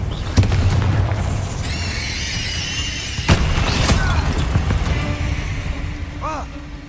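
A Confringo explosive spell goes off in Hogwarts Legacy, with booming blasts near the start and midway, layered over game effects and shimmering magical tones, while a voice speaks across the clip.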